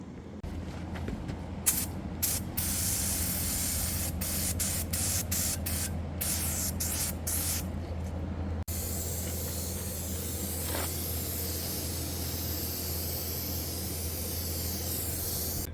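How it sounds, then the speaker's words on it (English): Pressure washer spraying degreaser over a Chevy 350 V8 engine, a steady loud hiss with sputtering bursts early on, close up and continuous with no talking. "we'll start spraying this motor down, get it degreased, and pressure wash her up"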